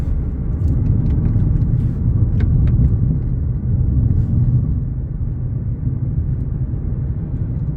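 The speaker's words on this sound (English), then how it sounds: "Plenty of power from the turbo petrol engine." Audi A3 1.4 TFSI turbo petrol engine with a manual gearbox, heard from inside the car while driving: a steady, close low rumble and road drone throughout, with faint light ticks above it and no talk.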